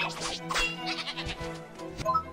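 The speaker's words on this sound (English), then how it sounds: "They look like unicorn sheep." Unicorn sheep creatures in the video game Ni no Kuni: Wrath of the White Witch bleat in a short run of nasal, wavering cries over steady game music, fairly close and clear.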